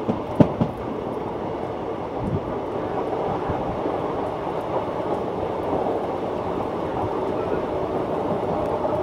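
A train rumbles steadily across the Pamban rail bridge between Rameswaram and Mandapam, a continuous rolling roar with a few sharp knocks early on, heard from onboard.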